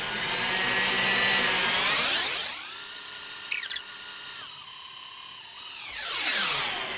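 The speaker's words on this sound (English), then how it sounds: "And now we're gonna beat it until it's got stiff peaks, which means that the egg whites are gonna be standing upright." An electric hand mixer whirs at high speed, beating egg whites to stiff peaks for tiramisu, its pitch dipping and rising as the beaters work through the bowl, steady and close with no talking.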